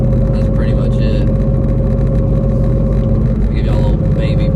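Whipple-supercharged Ford Mustang with a built transmission, a loud close engine roar that holds steady and rich in low harmonics, a voice talking over it.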